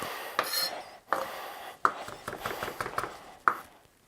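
A knife sawing and chopping through fresh cilantro on a tabletop, with sharp close thuds roughly every half second to second and a soft scraping rasp between the strikes.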